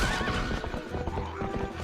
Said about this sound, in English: This horse is really fast, by the way.